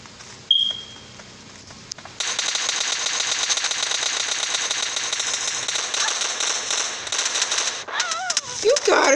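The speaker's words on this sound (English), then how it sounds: "Oh, now they throwing nades in there" Grenade blasts and rapid automatic gunfire in PUBG Mobile team deathmatch: a sharp bang early, then a dense, continuous barrage of shots from about two seconds on, with beeping tones near the end.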